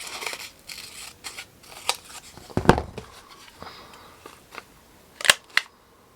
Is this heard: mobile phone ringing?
no